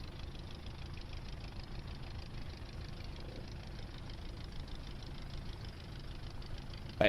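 The Piper J-3 Cub's engine in Microsoft Flight Simulator drones as a soft, steady, low idling hum at low volume, unbroken throughout except for a brief bump at the very end.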